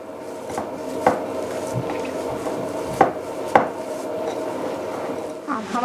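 A spiced potato filling for aloo paratha is worked around a bowl, producing steady soft scraping and rubbing with a few sharper clicks of utensil against the bowl. No one speaks.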